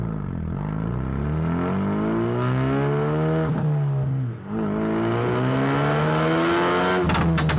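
A 2018 Ford Focus RS with its factory 350-horsepower 2.3-liter EcoBoost turbocharged four-cylinder revs loudly and close, pitch sweeping up and down through several throttle blips, with a brief dip near the middle and a sharp flutter at the end.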